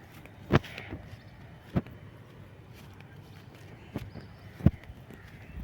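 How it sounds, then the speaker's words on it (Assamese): Crows caw outdoors as evening approaches, four short, sharp calls scattered at irregular intervals, moderately distant over a quiet background. "ইয়াতে এবাৰ কাউৰীবিলাক আটা পাৰি আছে"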